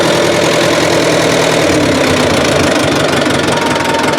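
A warmed-up Ford 2000 tractor engine idles steadily and loudly up close, a constant low rumble with a slight knocking pulse and no voices.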